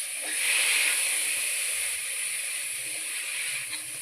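Carrots and beetroot fry in a pan with ginger and green chilli paste, giving a soft, steady sizzling hiss that carries on evenly throughout, alone with no voices.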